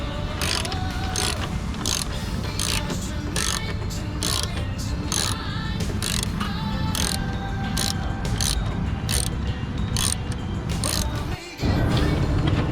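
Steady ratcheting clicks from a hand ratchet removing grill bolts on a Ram 1500, a rapid, even ticking rhythm running throughout under a continuous mechanical background, close and unbroken apart from a short dip near the end.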